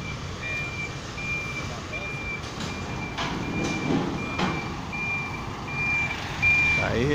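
A tow truck emits steady, regularly repeating reversing beeps while towing away an illegally parked car at Praça Floriano Peixoto in Belo Horizonte, over continuous street and engine rumble.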